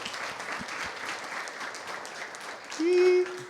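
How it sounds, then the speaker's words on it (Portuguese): A congregation at a thanksgiving church service claps softly and steadily, fairly distant and faint, with a brief sustained sung or hummed tone rising over it near the end. "Uma salva de palmas ao Senhor."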